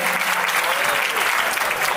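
In a banquet hall, a Republic Day audience gives a large, dense wash of applause for a sitar player, continuous and loud with no voices.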